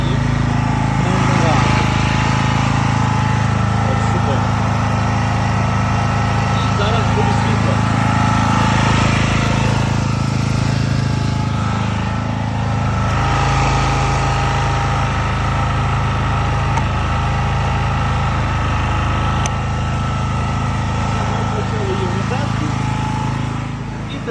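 A portable generator engine runs steadily and loudly throughout, its rough mechanical drone holding near-constant without any talk over it.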